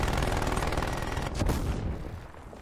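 Enemy turret machine gun firing in Call of Duty Black Ops Cold War, a loud, nearly continuous rapid burst of automatic gunfire filling the whole moment, with no talk over it.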